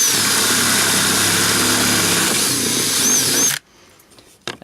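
A power drill fitted with a 3/4 inch bit bores through the plastic fuel door of a car, a loud steady whirring and grinding that runs for about three and a half seconds, then stops abruptly, leaving a few faint clicks.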